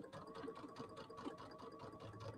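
A sewing machine stitches a long quilt seam at a slow, steady pace, its even mechanical whir and rhythmic needle clatter close and quiet, with no voices.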